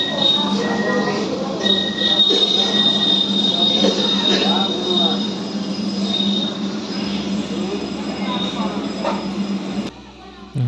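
Wheels of a stopped air-conditioned train squeal at a station platform in long, piercing high tones over steady carriage rumble, with voices murmuring in the background throughout.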